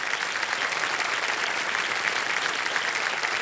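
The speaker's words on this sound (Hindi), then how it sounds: "तालियों के साथ उनका स्वागत" A studio audience on the Kaun Banega Crorepati quiz show applauds in a steady, even roar of clapping from many hands, with no voices standing out.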